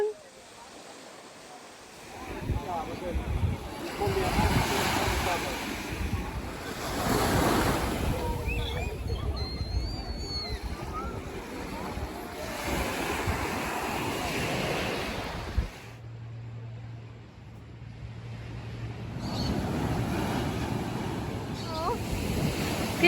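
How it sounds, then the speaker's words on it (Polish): Surf rolls and breaks continuously on a Costa Rican beach, with gusty wind buffeting the microphone and brief voices in the background. "Ale fale są mocniejsze."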